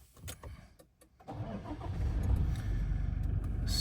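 A Toyota Hilux Invincible pickup's engine cranks briefly, catches and settles into a steady, close, low idle, preceded by a few faint clicks.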